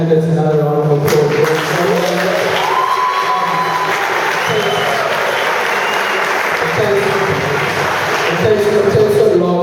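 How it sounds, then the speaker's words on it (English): Crowd applause and cheering for candidates at a student house election event, loud sustained clapping with voices and whoops mixed in, and someone talking over it. "Can we please give the candidates another round of applause?"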